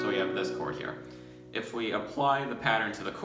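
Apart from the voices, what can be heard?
None of the usual background noises is heard.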